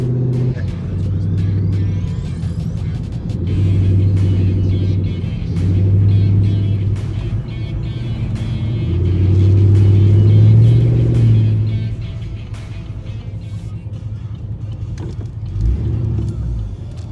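A cammed LS3 427 V8 at first start idles with a deep, loping rumble, swelling in a few revs before settling back, close and loud throughout.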